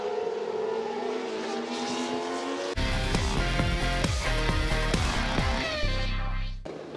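550 horsepower AutoGP race cars at the Hungaroring in 2015, a loud engine whine rising through the gears as cars roar past close by, with a second car's harsher drone cutting in before fading out.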